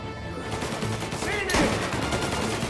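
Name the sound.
gunfire in the video game Mafia: Definitive Edition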